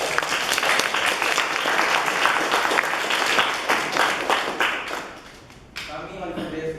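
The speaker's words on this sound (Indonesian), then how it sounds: "Mari kita berikan tepuk tangan kepada yang mulia." An audience at the close of a formal event claps loudly and steadily for about five seconds, then the applause tapers off into scattered claps.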